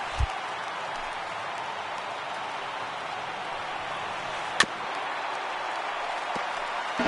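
Steady broadband roar of a baseball stadium crowd of about 34,000 fans in a Road to the Show baseball video game, rising as they come to their feet, with a single sharp crack midway through.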